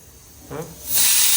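Steam from a pressure cooker whistle: a brief voice sounds early, then a loud, broad hiss surges in and keeps going, close by.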